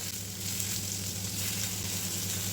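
Rava-coated mushroom pieces fry in a pan with a steady, even sizzle and hiss throughout, no pauses and no voices, moderately close.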